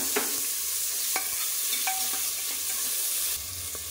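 Tomatoes and green chillies hit a frying pan where cumin, dried red chillies and bay leaf are already cooking, raising a loud, dense sizzle with a few soft scraping stirs, close up and without talk.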